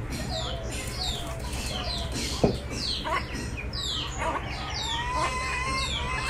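Chickens cluck steadily while feeding alongside pet pigeons in a backyard coop, with sharp, repeated calls layered over a constant murmur of birds, a rooster-like crow rising now and then.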